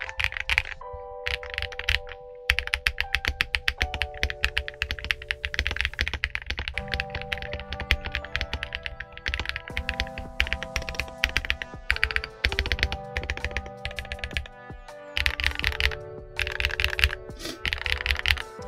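Sustained typing on an XVX M68 wooden CNC-case mechanical keyboard: rapid, irregular keystrokes with a deeper, woody clack, heard close and alone, with short pauses between bursts.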